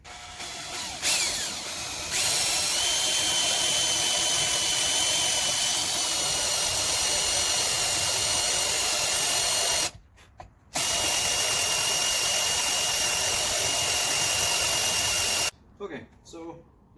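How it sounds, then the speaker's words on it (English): A power drill drilling a hole during a mini bike restoration whines steadily for several seconds, stopping briefly and starting again before cutting off, loud and close with no talk. "But I'll drill this out real quick"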